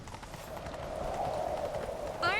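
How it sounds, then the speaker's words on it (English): Horse hooves gallop in The Witcher 3 as a fast, faint clatter under a rising whoosh of game sound, ending in a brief sharper accent. "Grab a horse, we'll chase him down."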